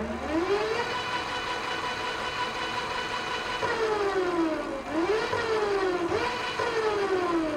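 The electric motor of a 24-volt muscle bike whines steadily on throttle, a rising and falling tonal hum that climbs as the wheel speeds up, dips, then rises again, close and even with no talking.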